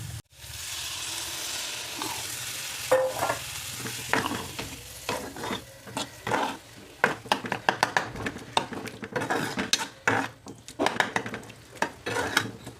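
Tamarind water poured into a pan of frying fish masala for a seer fish chilli curry, giving a steady close sizzle broken by frequent clattering stirs and scrapes of a spoon against the pan, with no talking.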